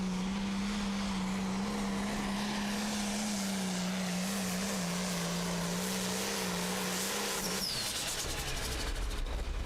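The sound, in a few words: limited pro stock tractor pulling at tractor pull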